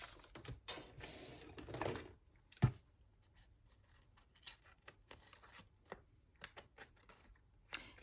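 Paper pages of a hardcover altered book being trimmed, with a quiet run of crisp snipping and rustling, a sharp cut partway through, then scattered light clicks and cuts.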